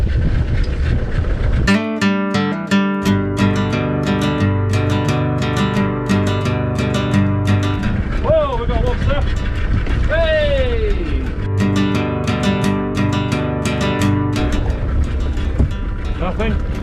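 A lobster-potting boat's engine idles off the Isle of Skye, Scotland, with a steady, throbbing drone and a rhythmic knock, while people talk briefly over it partway through.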